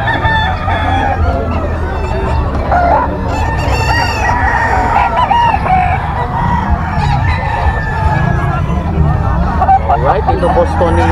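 Yellow line gamefowl roosters crowing at a gamefarm seller's stall, several loud calls over steady clucking, surrounded by people talking and the hum of nearby traffic.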